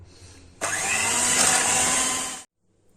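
An electric mixer whisks melted butter and chocolate, switching on abruptly with a steady loud whir that runs for about two seconds before cutting off.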